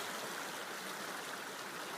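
A river stream rushes at a crossing point, a steady broadband wash of flowing water, close and continuous with no voices.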